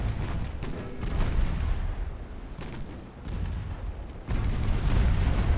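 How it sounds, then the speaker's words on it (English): Heavy naval guns firing a salvo in a dreadnought-era warship game, a dense rolling rumble of booms and deep thuds that dips briefly, then surges back loud and sustained. "My turn to fire. That's a large salvo."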